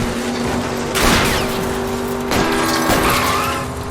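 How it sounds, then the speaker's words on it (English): Gunshots aimed at a fleeing car's tires during a chase in L.A. Noire: two sharp, loud shot bursts over a steady roaring car engine, with tires squealing as the vehicle speeds away. "I'll try to shoot out his tires."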